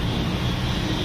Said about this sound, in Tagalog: Helicopter pa.